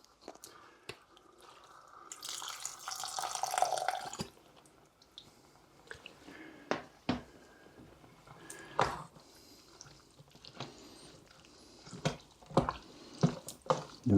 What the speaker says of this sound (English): I'm just going to add a splash more water.